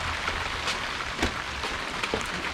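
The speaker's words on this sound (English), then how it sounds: "It's starting to rain." Steady rain begins falling outdoors, a dense, even hiss of drops pattering on surfaces with a few louder taps, with no talking.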